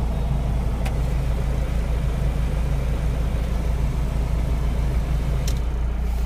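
A 2012 Mahindra Scorpio M2DI diesel with over one lakh kilometres runs at a steady, even idle with a deep low rumble and slight vibration, heard close and alone.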